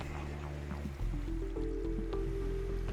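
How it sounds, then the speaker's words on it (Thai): A sea spell shoots water in Minecraft with squishy, dripping splashes over steady background game music, fairly quiet and with no talking. "ยิงน้ำได้ด้วยเฮ้ย"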